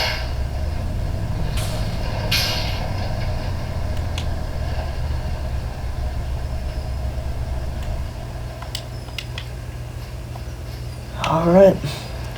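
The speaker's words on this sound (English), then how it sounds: "I'll go ahead and just pull the grain truck off right here." A grain truck is moved off a farm field at soybean harvest, with a low engine rumble throughout, a few sharp air bursts and a louder air-brake hiss near the end, all at moderate distance.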